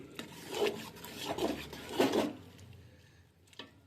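A spoon stirs vegetable khichdi with spinach in a pot, three or four close rasping scrapes in quick succession, then a quieter pause and one last short scrape.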